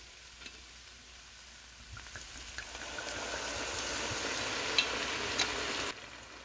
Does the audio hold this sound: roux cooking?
yes